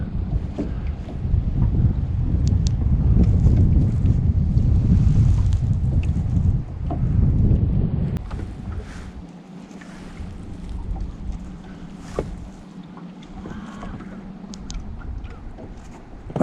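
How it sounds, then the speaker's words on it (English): Strong wind buffets the microphone on a lake while fishing from a boat, a loud rumbling roar for the first eight seconds that then eases into lighter gusts and faint water and boat noises. "Boy, this wind's something."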